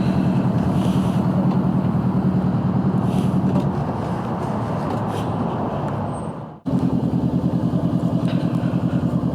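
A motorcycle pulls up with a loud, throbbing engine, drops off briefly, then settles into a steady, pulsing idle close by.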